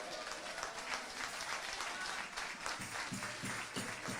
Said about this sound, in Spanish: ¿Cuánto da un aplauso al Señor esta noche?